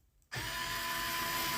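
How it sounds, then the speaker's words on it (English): A Fanttik automatic screwdriver driving screws back in, starting abruptly after a brief near-silence and then holding a steady, loud, close motor whir with no pauses. "I mean, the screws go right back in."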